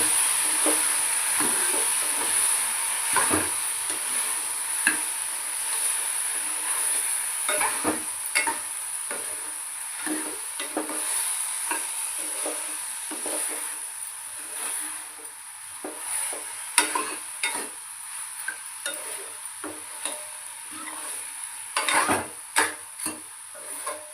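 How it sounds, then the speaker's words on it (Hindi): Steady hiss and crackle of spices and asafoetida tempering in hot oil, with scattered clinks and stirring scrapes throughout; no talking. "तो बस फिर मैंने जहाँ पर लगा दिया था तड़का।"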